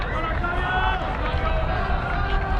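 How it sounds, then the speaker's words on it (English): Crowd in the stands at a district track and field meet, cheering the runners on as a steady broad murmur, with a commentator talking over it. "In the stands, you can sure hear the crowd not yelling, but encouraging the athletes as they're running."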